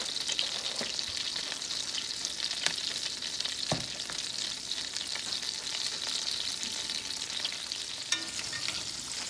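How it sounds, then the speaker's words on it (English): Venison burgers fry in a pan with a steady, close sizzle and crackle throughout, dotted with faint pops and a few light utensil clicks, no voices. "So he's turning over his venison burgers now. They're nice and golden brown on one side."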